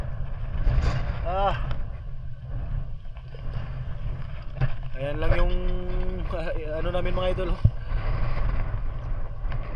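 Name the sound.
strong wind by the sea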